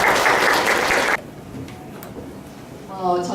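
Audience applause at a Korean venture startup forum fills the first second loudly, then cuts off to a quiet room before a voice begins.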